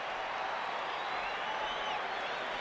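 Arena crowd at Madison Square Garden during a Bulls–Knicks basketball game, a steady broad roar of cheering and scattered clapping filling the whole moment, loud and continuous with no pauses.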